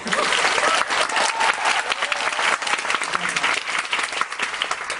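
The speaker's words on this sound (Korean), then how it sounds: "박수 한번 주세요!" Theatre audience applauding during a post-show talk for the play Sleuth, a dense sustained wash of many hands clapping that fills the whole stretch at steady loudness.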